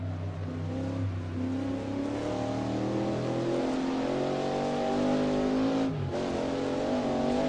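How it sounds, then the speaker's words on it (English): A Ford GT40 race car engine downshifts into a corner during a historic sportscar race at Bridgehampton, its loud, close, droning note shifting pitch before a brief break and a strong pull back up. "All right, down to second gear here for Millstone."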